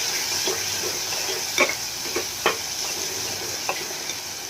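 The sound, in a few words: mixing tomatoes with turmeric and salt in oil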